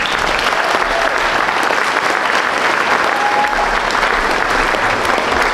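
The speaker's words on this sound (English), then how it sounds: "big round of applause for them" Steady applause from a school choir concert audience honoring the maintenance staff, dense clapping sustained evenly throughout with faint crowd murmur beneath.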